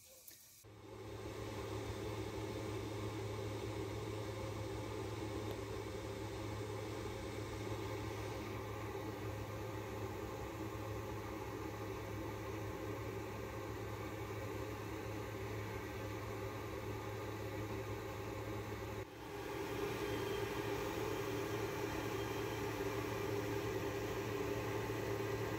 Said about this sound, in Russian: Сейчас я включу вытяжку.